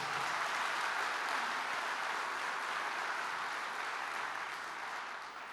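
A church congregation claps loudly and steadily for the King during a sermon on purpose, dense applause filling the room and tapering slightly toward the end, with no voices heard.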